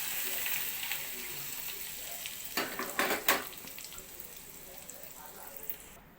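A tempering for onion chutney sizzles in hot oil, with a soft steady hiss and a short burst of louder crackling in the middle before it settles back to a faint sizzle.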